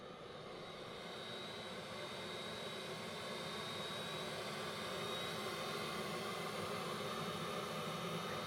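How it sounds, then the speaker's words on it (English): A Worcester Bosch gas boiler set to maximum rate gives a steady whooshing roar of burner and fan, rising slightly in strength and staying constant with no talk over it. "You'll hear the boiler ramp up eventually."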